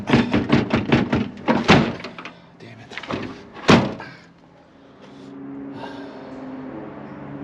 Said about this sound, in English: This door doesn't close anymore.